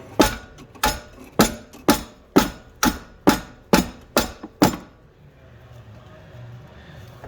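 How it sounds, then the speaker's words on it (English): Nine sharp, evenly spaced metallic mallet strikes on a 15/16 wrench fitted to a suspension nut during a 1984 C4 Corvette rear suspension rebuild, close and loud, then a quiet faint tail with no talking. "I'm just gonna hit it with a mallet to break it free"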